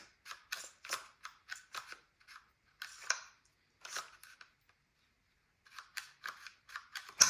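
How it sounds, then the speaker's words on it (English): A Winchester Wildcat .22 LR rifle is worked as its bolt is pulled and locked back, a series of crisp metallic clicks and snaps in irregular bursts with quiet pauses, close and fairly soft. "So let me lock the bolt back."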